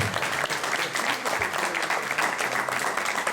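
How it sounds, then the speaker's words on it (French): An audience at a public meeting claps warmly for Nathalie Tehio, president of the LDH, with continuous, fairly close applause that stays full throughout. "Je pense qu'on peut l'applaudir très très."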